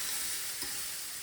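Onion sweating with salt in a hot pan gives a dense, steady sizzle, close and even, with a faint stir partway through.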